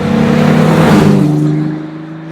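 An Aston Martin DB5 upgraded to Vantage spec, with a 4.2 litre straight-six engine and triple Weber carburettors, roars loudly close by with a strong, tonal engine note that swells and then fades as it pulls away.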